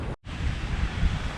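Water rushing and roaring past the hull of a Hallberg-Rassy 54 sailing yacht at night, making 8 to 10 knots at sea: a loud, steady broadband wash with a brief drop-out near the start, no voices.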